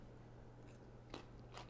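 Raw celery bitten and chewed in a home kitchen, two crisp crunches about half a second apart over a low steady hum, close and fairly quiet.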